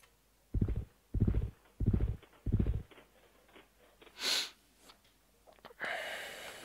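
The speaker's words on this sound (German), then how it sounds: "Ich sollte echt mein Pferd nutzen und da oben einreiten." Horse hooves clip-clopping in Civilization III, four evenly spaced hoof clops followed by a snort-like breath and a rushing burst of noise, close and clear with no talk.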